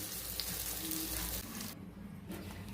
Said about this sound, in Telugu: ఇప్పుడు ఆయిల్ బాగా హీట్ ఎక్కిన తర్వాత వేసిన వెంటనే ఇలా సౌండ్ రావాలి, అప్పుడే బాగా కాలినట్టు.